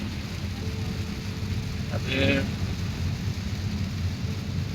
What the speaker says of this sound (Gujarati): અત્યારે કેમેરામાં કેપ્ચર થઈ રહ્યો છે વરસાદ